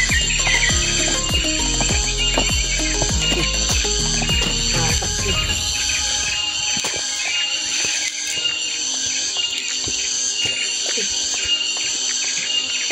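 Cicadas (tonggeret) drone loudly and without pause in mountain forest on Mount Pandan, Bojonegoro. Pulsing falling sweeps fade after the first few seconds, leaving a sustained shrill whine alone.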